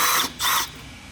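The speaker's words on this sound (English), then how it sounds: "Using a 2 1/4 inch hole saw, drill out the hole." Two short, high-pitched bursts of a power drill with a 2 1/4 inch hole saw whining through a snowmobile tunnel for an exhaust exit, each lasting a fraction of a second, followed by quiet.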